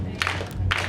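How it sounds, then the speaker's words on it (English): Two quick bursts of clapping from a church comedy-night audience, spaced in a steady rhythm, fairly close and loud above a low room hum. "I'm gonna need you to start clapping your hands with me."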